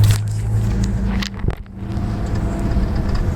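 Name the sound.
car driving up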